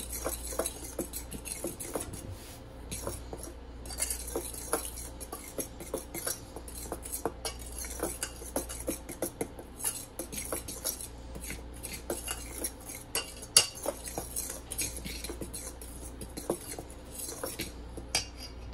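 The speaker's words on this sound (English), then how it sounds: "now we're just going to mix this really well together" Rapid, steady clinking of a utensil against a bowl as ingredients, including salt and self-rising flour for a feta flatbread dough, are stirred together, a close, continuous ticking patter with no talking.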